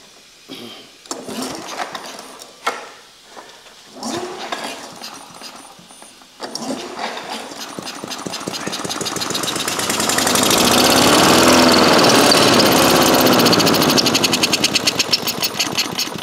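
A small engine running on ether starting fluid is pulled over a few times, then catches and runs with a loud, rapid buzzing beat that swells and holds steady, close by.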